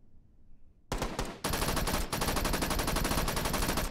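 Rapid automatic gunfire from the VR shooter game H3VR starts abruptly after a short quiet lead-in, then continues as a loud, dense burst of shots that runs to the end.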